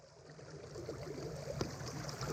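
Steady, soft rush of a creek flowing on a cold day, a continuous low wash with a faint trickle and one small splash partway through, no voices.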